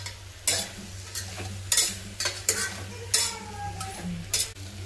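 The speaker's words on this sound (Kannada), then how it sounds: "ಇವಾಗ ಇದಕ್ಕೆ ತರಕಾರಿನೂ ಹಾಕೋತೀನಿ. ಚೆನ್ನಾಗಿ ಫ್ರೈ ಮಾಡ್ಕೋಬೇಕು." Vegetables for a vegetable biryani fry in a pan while a utensil stirs them, giving repeated sharp scraping strokes over a soft, steady sizzle heard close up.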